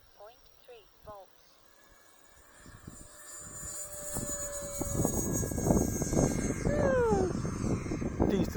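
A Freewing Me-262 model jet takes off on a windy day, its electric ducted-fan whine rising from a quiet start into a loud, steady roar with a pitch sweep near the end; brief speech is heard at the beginning.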